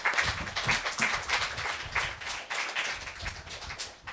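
An audience claps for a speaker coming up at a literary event celebrating Nick Joaquin, a fairly faint, even patter of applause lasting the whole stretch.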